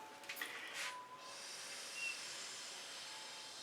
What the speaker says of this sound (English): I'm going to blow that around a little bit.